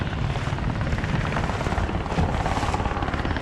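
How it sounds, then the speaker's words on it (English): A helicopter lands close by over saltwater fishing grounds near Point Loma, giving a loud, dense rotor chop that throbs steadily with no gaps. No voices are heard. "The helicopter's landing right next to me."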